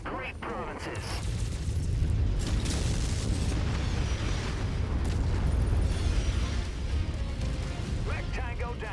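Artillery shells burst around a battle mech in MechWarrior 5: Mercenaries, a dense, sustained rumble of overlapping booms and mechanical creaks lasting several seconds, with clipped voice chatter over the din.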